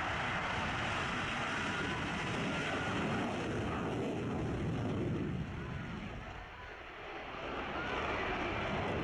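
A loud, steady jet engine roar fills the air as an F-16AM Fighting Falcon takes off, easing briefly before swelling again as it powers away.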